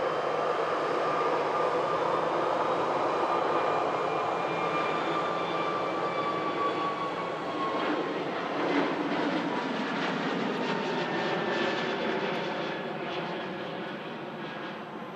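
Ryanair Boeing 737 airliner lining up for departure at Manchester Airport, bound for Dublin; a loud, sustained jet engine roar with rising whine heard from a distance, steady and then slowly fading slightly, with no talk.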